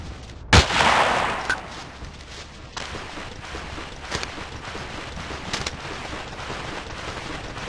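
Gunfire in the video game Battlefield 2: a sharp, loud blast at the start followed by a rushing roar, then scattered fainter shots and a steady background rumble.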